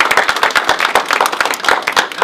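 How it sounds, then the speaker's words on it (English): Audience at a retirement ceremony claps in a lively round of applause, individual claps distinct and close, with no talking over it. "how about a round of applause for Anita?"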